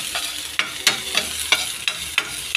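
Onions and garlic fry in homemade chicken oil for Korean-style noodles, giving a steady close sizzle. Regular sharp scrapes of stirring repeat about every third of a second.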